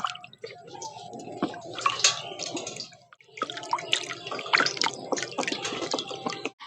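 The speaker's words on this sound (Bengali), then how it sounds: "বেগুনটা প্রথমে আমরা ভালো করে ধুয়ে নেব" Eggplant being washed under running tap water in a home kitchen: close, fairly quiet splashing and trickling in uneven bursts, with a short pause near the middle.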